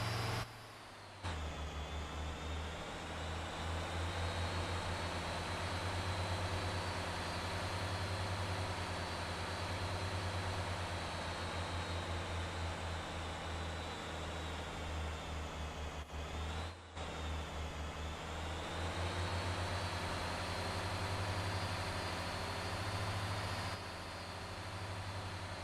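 A heavily loaded semi truck's engine drones low and steady in the Motor Town driving game, holding a high rev with a brief dip midway, continuous and close with no talk.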